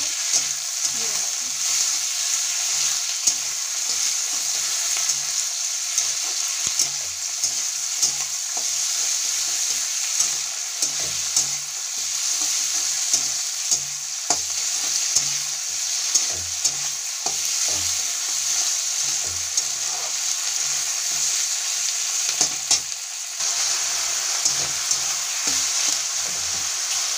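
Spices and tomatoes frying for sambar in a pan, a steady close sizzle with occasional stirring clicks and scrapes running throughout without talk.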